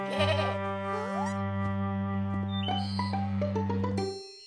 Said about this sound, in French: N'aie pas peur, Mousseline, c'est des moutons. Ils sont doux et gentils.